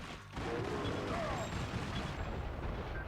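Gunfire from a PS2 shooter demo, a dense, continuous stretch of loud game combat noise with layered shots and rumble that kicks in after a brief quieter moment and runs to the end.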